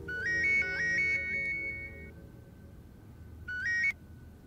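A phone ringtone plays a short repeated electronic melody, two bright rising phrases, a pause, then another phrase that cuts off, moderately loud over a low background hum.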